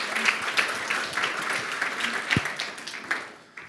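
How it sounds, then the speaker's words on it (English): Conference audience applause after a presentation on the economic cost of dementia: steady, dense clapping from a seated crowd, moderately distant, slowly tapering off toward the end. "a round of applause for the excellent presentation"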